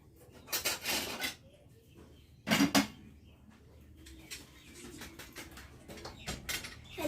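Freshly washed kitchen utensils being put away: a few distinct bursts of clattering metal and dish clinks, separated by quieter rubbing and handling sounds at close range.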